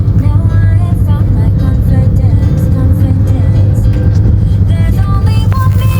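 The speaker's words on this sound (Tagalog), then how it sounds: "Na-stuck kami sa traffic, guys." Car traffic idling at a stoplight in Kiyose, Japan, heard as a steady, loud low engine rumble with a constant hum, no clear passes standing out.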